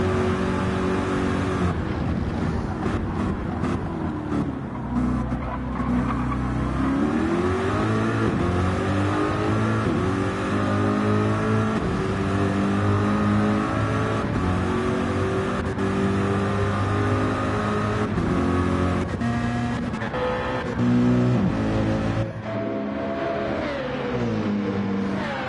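Corvette race car engine in a racing video game, a loud continuous roar rising and falling through repeated revs and gear shifts for the whole stretch, with brief tire squeal.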